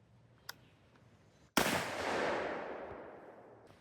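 A single loud rifle shot from a Mossberg Patriot chambered in 450 Bushmaster with a 20-inch barrel, firing a 250 grain Hornady FTX load outdoors: a sharp blast followed by a long rolling echo fading away, with a faint click beforehand.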